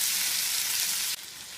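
Tomatoes and corned beef fry in a pan with a steady, close hiss of sizzling that stays loud throughout and drops a little toward the end, with no talking.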